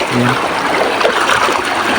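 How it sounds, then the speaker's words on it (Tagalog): A strong stream swollen after heavy overnight rain rushes loudly and continuously at close range, a dense churning wash with faint voices underneath. "lakas ng tubig"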